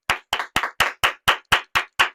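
A steady run of nine sharp claps lands evenly at a brisk rhythm, close and loud, each hit sounding like one or a few people clapping together.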